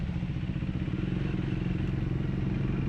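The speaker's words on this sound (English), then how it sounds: "the bike is fucking screaming" A motorcycle engine runs hard and close, a loud, steady, rough drone with a dense rattling texture throughout, no break in the sound.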